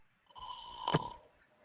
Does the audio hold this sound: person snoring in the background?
yes